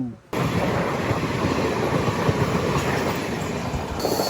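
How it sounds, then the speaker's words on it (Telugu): The Madurai–Punalur train rushes past on the line in Kerala, a loud, close, continuous rumble and rattle of wagons starting abruptly and holding steady throughout. "ఇప్పుడు క్రాస్ ఓవర్ అయింది కదా మధురై పులనూరు బండి"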